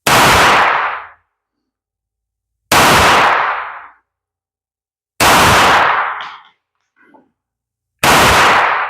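A Taurus 605 revolver fires shots at a 7-yard range. Each loud, sharp report is spaced about 2.5 seconds apart, rings out and decays, and faint handling noises fall between them.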